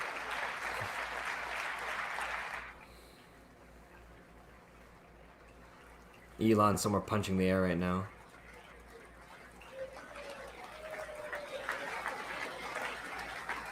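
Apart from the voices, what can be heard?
delayed standing applause at State of the Union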